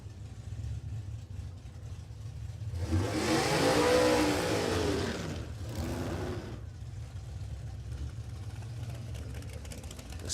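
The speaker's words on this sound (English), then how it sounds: "Sting Family Racing Dragster out there now." Nitro drag racing dragster engine at Warwick Dragway, Australia: a loud roaring run swells and peaks, cuts back, then surges again briefly before settling into a steady rumbling drone over a constant background din.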